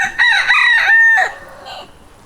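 A rooster crows once loudly and close by, its call rising and then trailing off, followed by quieter clucking from chickens on a farm that also keeps pheasants and ducks.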